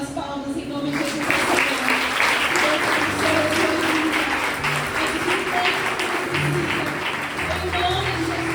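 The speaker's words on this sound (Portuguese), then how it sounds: "Vamos entregar umas palmas em nome de Jesus." A church congregation claps and applauds together, a dense sustained wash of hands that fills the whole stretch, with faint voices mixed underneath.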